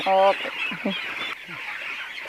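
Chickens on a poultry farm raising ten thousand birds give loud honking squawks at the start, followed by scattered softer clucks, with a short spoken word mixed in.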